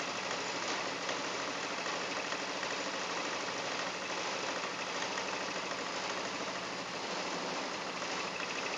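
Honda SH300i scooter engine running steadily with no rough vibration, a constant close mechanical hum and rumble that holds an even level throughout, with no voices.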